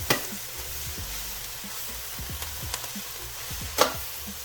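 Lion's mane mushroom fries in plant-based butter, giving a soft continuous sizzle close by with a few light clicks and one brief louder crackle near the end.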